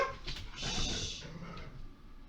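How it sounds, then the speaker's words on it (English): A puppy gives a short, faint whimper close by, a brief high whine with some soft breathy noise, over quiet room tone. "so now that's the puppy."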